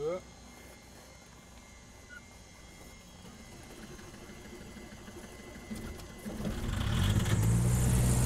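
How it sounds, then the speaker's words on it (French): Cold diesel engine of a light aircraft starting up after two days idle, a low steady rumble that swells into a louder, rougher roar in the final seconds. "Le moteur est froid, il n'a pas tourné"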